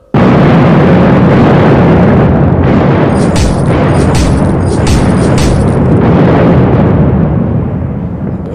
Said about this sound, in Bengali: বোমার শব্দ, তলোয়ারের ঝনঝনানি,